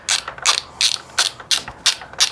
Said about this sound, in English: right now I'm using a 18 millimeter socket, deep socket, to get this part out